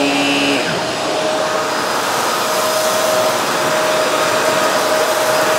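A Shark NV352 Navigator Lift Away upright vacuum runs loud and close, a steady high whine and rushing airflow as it picks up cereal and coffee on a bare floor.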